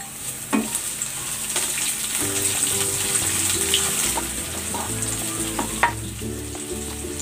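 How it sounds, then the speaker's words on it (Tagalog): Garlic and onion sautéing in a pan, a steady close sizzle with occasional clinks and scrapes of stirring, and a faint low hum running underneath. "Igisa na natin itong bawang. Ilagay na rin natin itong sibuyas."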